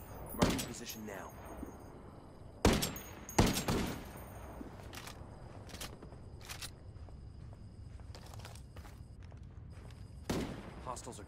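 Enemy gunfire in a Ghost Recon Wildlands PvP match: sharp gunshot bursts near 0.5, 2.7, 3.5 and 10.4 seconds, with scattered lighter pops and clicks between over a steady game background, while voices call out in the game.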